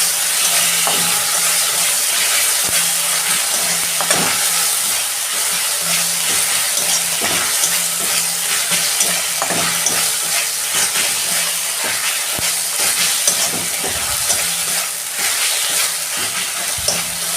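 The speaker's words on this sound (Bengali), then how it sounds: "নুন দিচ্ছি অল্প, দু চামচ দিচ্ছি আদা রসুনের পেস্ট।" Ginger-garlic paste with salt fries in a pan for okra do-pyaza, a continuous close sizzle and hiss broken by scraping stir strokes and occasional spoon taps.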